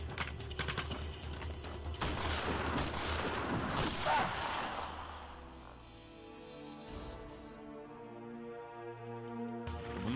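Dense, rapid gunfire crackles and pops for several seconds, then thins out as a lingering low tonal hum takes over.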